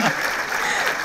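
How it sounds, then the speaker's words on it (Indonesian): A burst of loud, close applause from a studio audience at an Indonesian talk show fills the whole moment, dense and even with no voices over it. "Nah gitu dong, tepuk tangan."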